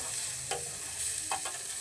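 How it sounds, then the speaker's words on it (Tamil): Food sautéing in a pan on the stove, a steady close sizzle with a couple of brief scraping stirs of the spatula, no voices over it. "நல்லா வதக்கிக்கலாம்"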